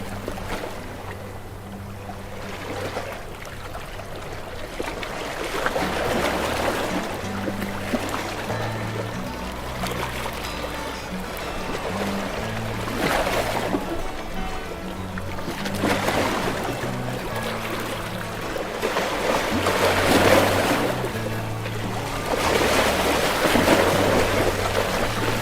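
Ocean waves surge and crash below a hillside house, the broad, washing swells rising and falling several times over steady background music.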